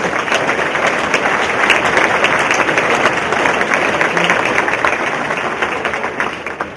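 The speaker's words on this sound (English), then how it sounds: "let's give a huge round of applause for our assistants." Sustained applause from a large crowd at a sportsmanship conference, dense steady clapping filling the whole stretch without a break, tapering slightly at the end.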